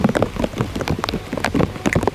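Rain falling during river fishing on the Rio Negro in the Amazon, an irregular patter of drops striking a surface nearby, fairly loud and steady with no talk.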